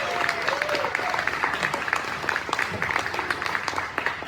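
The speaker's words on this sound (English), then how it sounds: "Give yourself a big round of applause." A dinner crowd in Calloway County, Kentucky, claps in a dense, lively round of applause that carries steadily throughout, with scattered voices and cheers mixed in.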